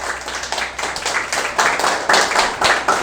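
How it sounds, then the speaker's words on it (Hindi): Students who cleared the NDA exam clap loudly together in a room, a dense, close burst of hand claps that swells in waves and keeps going for several seconds. "सभी अपने अपने लिए ज़ोरदार ताली बजाएंगे एक बार।"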